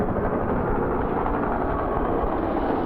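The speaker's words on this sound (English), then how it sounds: "No, that's a Huey." A Huey helicopter flying overhead at a base in Vietnam, a steady low rumbling drone with broadband noise, continuous and fairly distant throughout.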